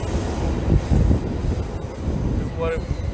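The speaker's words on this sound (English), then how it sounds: "the Metro Rail is going by" A Metro Rail train rumbles past outdoors, a low continuous roar with wind buffeting the microphone and a brief high squeal of wheels near the end.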